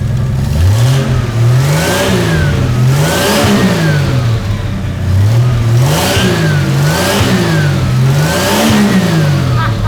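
A loud turbocharged six-cylinder engine is revved repeatedly in rhythmic swells, each climbing and falling in pitch with a whooshing turbo whistle on top, close up.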